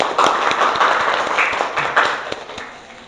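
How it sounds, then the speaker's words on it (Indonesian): Dense applause from a classroom audience, many hands clapping at once in a continuous wash that slowly tapers off. "Ayo yang keras tepuk tangannya."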